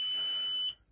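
A Prometheus electric kiln on a simple 13 amp plug gives a single high, steady electronic beep when switched on, close and clear, lasting most of a second before cutting off to near silence.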